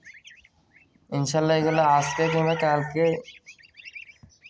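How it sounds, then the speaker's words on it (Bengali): Ten newly hatched goose goslings cheep from inside a cardboard carton. Faint high peeps are audible before and after a stretch where someone talks over them up close. "রাজহাঁসটার 10টা বাচ্চা উঠেছে, এগুলো কার্টুনের ভিতরে দিয়ে থুয়ে দেওয়া হয়েছে"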